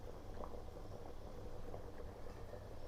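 Chicken ball curry simmering in a pot, a low steady bubbling and hiss with soft pops, continuous and close with no talk.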